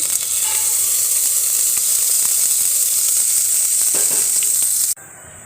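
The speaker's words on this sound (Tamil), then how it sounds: "எடுத்து அரைச்சி வச்ச மசாலாவை ஊற்றிக்கலாம்" Ground masala paste hits hot oil with mustard seeds and curry leaves for a fish curry, giving a loud, steady sizzle and crackle that runs unbroken for about five seconds before cutting off abruptly.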